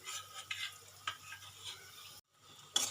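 A spoon scrapes and stirs a potato filling with ginger paste in hot mustard oil, giving soft sizzling broken by a few distinct clinks against the pan, with a short silent gap near the end.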